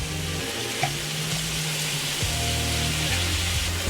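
Vegetables sizzle steadily in a hot frying pan as collard greens join carrots and purple cabbage, a continuous close crackling hiss with low stirring rumble and no talk.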